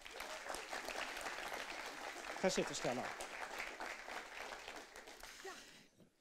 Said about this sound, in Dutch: ik wilde jullie applaus vragen en dan gaan we met haar praten voor Stella Braam